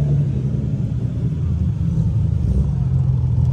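Constant low engine rumble from cars idling or cruising nearby, a BMW M240i with a B58 engine lined up against a turbocharged Nissan 370Z at a street race, steady and loud with no clear revving.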